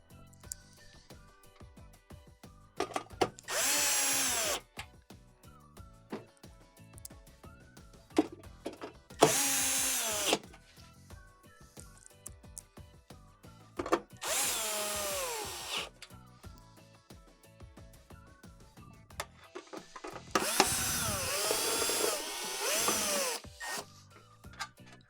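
A power drill drives the quarter-inch screws back into the cover of a Whirlpool Swash washer, four whirring bursts of a few seconds each separated by quiet handling clatter, close and fairly loud.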